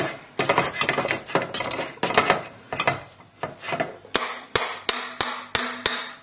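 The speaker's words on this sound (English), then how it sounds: "So mash away, get rid of all the lumps." A hand masher works through microwaved potatoes in a pot with a flurry of soft, scraping squelches, then a run of evenly spaced, firmer thumps as the lumps are pressed out.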